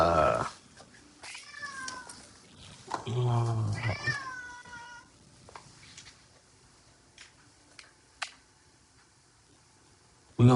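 A house cat meows loudly and repeatedly indoors, drawn-out wailing cries in a cluster, followed by a quieter stretch with a few faint taps and a brief louder sound at the end.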